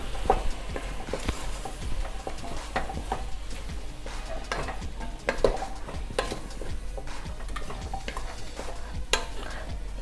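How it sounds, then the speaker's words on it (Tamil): Ground bisi bele bath masala stirred into a pot: steady scraping and clinks of a spoon against metal, repeating at an uneven pace over a faint sizzle, close up, with no speech. "இப்போ இதில் அரைச்சி வச்ச பிசிபெலாபாத் மசாலாவை சேர்த்துக்கிறேன். சேர்த்துட்டு நல்லா கலந்துக்கலாம்"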